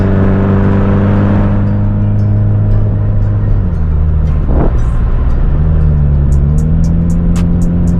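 A Honda Civic EG car engine drones steadily from inside the cabin, its pitch dipping around a gear change before climbing again as the car accelerates, with a light ticking near the end.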